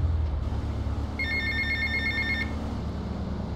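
Payphone ringing in the video game GTA Vice City, one clear electronic ring burst lasting about a second over a low rumbling game background; no talking.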